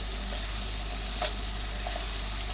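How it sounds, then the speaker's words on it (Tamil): Onion, tomato, curry masala and cinnamon sauté in hot oil for a quail gravy, giving a steady, even sizzle throughout with one brief louder spatter midway and no voices. "எண்ணெய், வெங்காயம், தக்காளி, கறி மசாலா, பட்டை பாக்கெட் போட்டு நல்லா வதக்கிட்டு இருக்கோம்"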